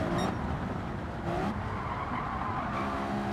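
A car in Gran Turismo drifts with tires squealing and the engine roaring loudly and continuously, skids rising and falling over a dense, sustained engine noise without talk.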